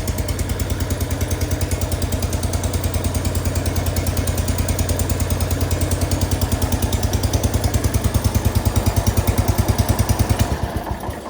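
An old tractor engine with what seems to be its original muffler, holed and leaking, idles loudly with a fast, even chugging beat that stays steady and close before cutting down at the very end.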